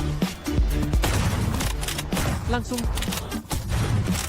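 Gunfire in the video game Delta Force, rapid bursts of shots and booms in quick succession over a busy mix, with a voice talking underneath.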